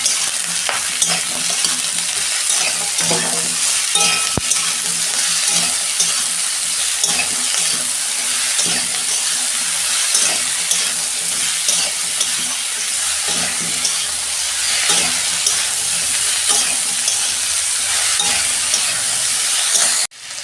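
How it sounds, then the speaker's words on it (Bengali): Mixed vegetables for a vegetarian khichuri fry in a pan with salt while being stirred, giving a steady, loud sizzle with scraping stir strokes throughout, no talking. "এইগুলো একটু ভাজা ভাজা করে নেব।"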